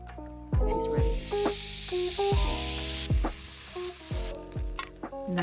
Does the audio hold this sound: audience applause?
no